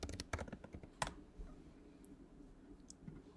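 Typing on a computer keyboard: a quick burst of clustered key clicks at the start, a sharp tap near one second, then a few sparse, softer taps over faint room noise.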